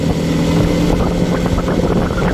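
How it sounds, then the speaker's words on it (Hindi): A motorbike rides along a main road at night in fog. The engine roar and wind rush are loud and steady throughout, with no speech. "बाइक की नॉइस आ रही होगी अगर आप लोग को"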